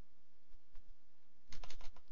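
A computer keyboard gets a quick run of keystrokes during a Minecraft session: a short, quiet cluster of clicks after a near-silent stretch, with no voice over it.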